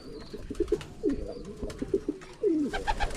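Homing pigeons being released to fly coo repeatedly at close range, with soft rolling calls and a few light clatters and rustles between them.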